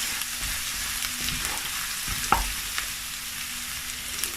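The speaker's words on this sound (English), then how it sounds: "So I'm going to mix it really well. Allow it to fry for 1 to 2 minutes before I add other ingredients." Lamb curry fries in a pot as it is mixed, a steady broadband hiss and sizzle with an occasional spoon knock against the pot, even and close with no voice over it.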